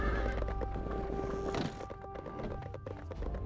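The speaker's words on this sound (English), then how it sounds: "There's something about the beat of the horse hooves on the ground" Horse hooves clip-clop on the ground with a neigh in the video game Sacred, the beat rhythmic and close, set against game music.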